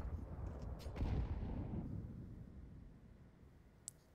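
A player empties a full magazine in a CS:GO esports match on the Vertigo map: a dense burst of rifle fire that fades into a quiet tail, with a sharp click near the end.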